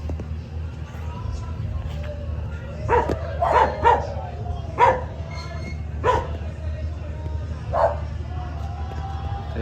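Outdoor scene with a dog barking in short bursts, several sharp barks spread out over a steady low background rumble, moderately near and clear.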